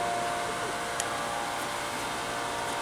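A Kellenberger 1000U three-wheel universal grinder plunge grinding a workpiece produces a steady, loud, hissing whir of the wheel with a faint tone held under it, with no talking.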